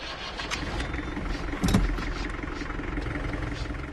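A vehicle engine runs with a low, continuous rumble, with a brief mechanical clunk partway through, on a vehicle set to drive around a village playing slogans.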